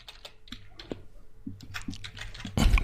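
Someone types code on a computer keyboard with quick, irregular key clicks close by, a pause between bursts, and a louder clatter of keys at the end.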